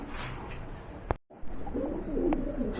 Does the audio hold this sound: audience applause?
no